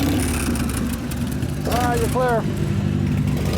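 A custom rigid Harley chopper bobber idles with a steady low rumble on its first test drive, someone speaking briefly over the engine.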